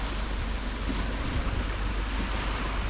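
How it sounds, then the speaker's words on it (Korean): Ocean surf rolls onto a beach at Moalboal, Cebu, a dense continuous roar of waves mixed with wind buffeting the microphone, loud and steady throughout with no voices. "바닷가에서 파도 소리 들으면서"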